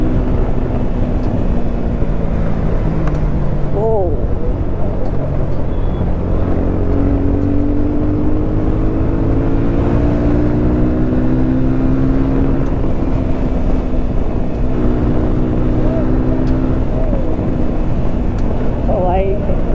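Continuous engine drone from a Jawa 350 cc motorcycle, a loud steady hum with shifting pitch as it revs, heard outdoors under ongoing talk.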